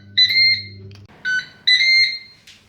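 Ninja Speedi air fryer sounding a series of electronic beeps: three sharp, bright tones in an uneven pattern, near and clear over a faint low hum, with no talk.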